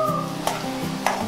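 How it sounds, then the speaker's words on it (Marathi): Curry leaves and chillies crackle and sizzle in hot oil for a tempering, a steady close frying hiss with two brief clinks of a spoon stirring the pan. "आपल्या कढीपत्ता आणि मिरची चांगली खरपूस भाजून घ्यायची आपल्याला"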